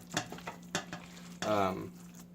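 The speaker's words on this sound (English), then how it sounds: "So we're going to just go ahead and mix all this in here." Ground burger meat and onions are worked together in a bowl, giving a few soft, close knocks followed by a longer wet squelching smear.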